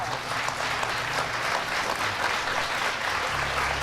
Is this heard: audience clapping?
yes